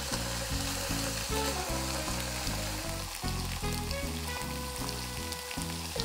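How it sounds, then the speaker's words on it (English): Miso- and honey-marinated pork slices sautéing over low heat in an oiled pan, giving a steady close sizzle and crackle with a rhythmic pulsing undertone throughout. "Then, place the pork slices onto the pan."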